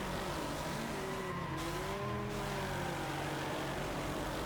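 Battered Ford Taurus racing in Wreckfest, engine roaring loudly throughout with tire squeal and skidding sliding in pitch, no talk.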